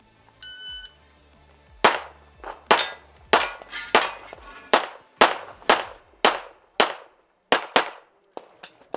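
A shooter fires a handgun through a stage at an IPSC Handgun World Shoot match: a short start beep, then about a dozen sharp, loud reports in quick uneven pairs and singles, each ringing with a brief echo.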